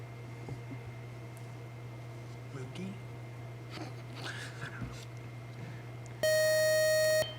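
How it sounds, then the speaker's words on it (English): A quiz game buzzer sounds near the end as one loud, steady electronic tone lasting about a second, after quiet room noise with a low hum and faint scattered sounds. "Might as well let the buzzer go"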